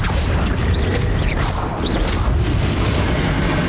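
A Bombarda blast spell from Hogwarts Legacy booms loudly during a boss fight, a dense rumbling explosion wash with brief high swooshing effects over continuous game noise.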